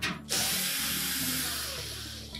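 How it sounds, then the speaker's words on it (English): Ratchet wrench backing out the quarter-inch hex head screws on the top of a Whirlpool washer, a close, continuous clicking and whirring mechanical rattle with no voices. "Now to remove the main top, we'll need to remove these three screws located across the back."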